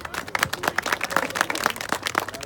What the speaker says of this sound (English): I'd like to give you guys a hand of applause for that.